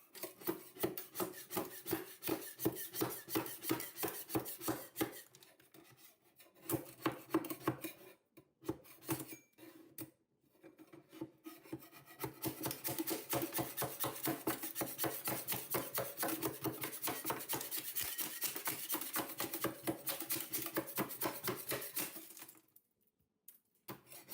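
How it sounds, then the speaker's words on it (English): An old refinish coating is sanded off a sink, heard as rapid, rhythmic rasping strokes in long bursts with short pauses between, fairly faint and without any talk. "Peel that all off of it and sand it down"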